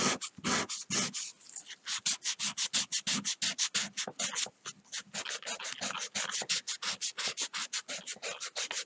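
Sandpaper of 240 grit rubs by hand over a carved wooden fishing lure in quick, rhythmic back-and-forth strokes, close and steady throughout.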